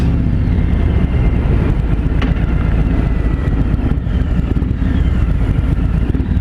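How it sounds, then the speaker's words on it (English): A 2017 Harley-Davidson Road King Special with a Milwaukee 8 engine on the road, a steady loud rumble blended with heavy wind buffeting over the microphone, continuous throughout with no voices. "this is just my experience riding this Road King and a Milwaukee 8 for the very first time"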